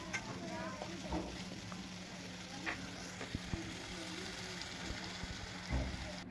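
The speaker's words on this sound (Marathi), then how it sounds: "तर या मसाल्याच्या वाटणला पण छान असं शिजू द्यायचं आहे" Masala paste for a potato and brinjal curry sautéing in a pan, a soft continuous sizzle with occasional stirring scrapes and light clinks, fairly quiet and steady throughout.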